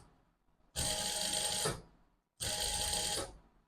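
A sewing machine stitches kaftan fabric in two close, loud bursts of about a second each, separated by a short pause, with no talk.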